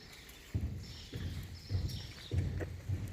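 A ridden horse walks during a riding exercise at an equine event, its hooves landing in an even rhythm of about five close, dull thuds.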